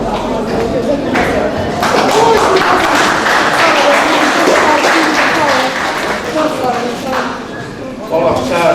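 An audience at a book presentation breaks into loud, dense applause that runs steadily throughout, with crowd noise mixed in and no individual claps standing out.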